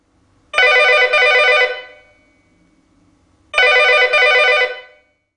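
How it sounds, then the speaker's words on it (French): A Geemarc CL600 telephone rings with two loud, close electronic trilling bursts of about a second and a half each, separated by a pause of near silence. "Fini les appels manqués grâce au flash lumineux de sonnerie."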